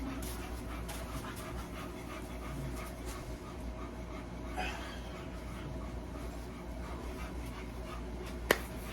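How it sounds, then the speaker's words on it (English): One-week-old bully breed puppies whimper and pant faintly and continuously in a quiet room, with a single sharp click near the end. "It's the puppies right there, y'all."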